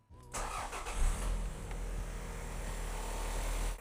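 A car engine cranks and catches after a fuel filter and pressure regulator change, then settles into a steady, fairly loud idle close by, with no one talking.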